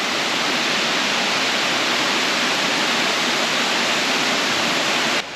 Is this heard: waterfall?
yes